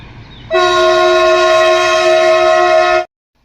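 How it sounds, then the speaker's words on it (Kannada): A passing freight train's loud, steady horn blasts for about two and a half seconds in Hubballi, then cuts off abruptly. "ಮಾಲ್ ಗಾಡಿ ರೀ ಅದು"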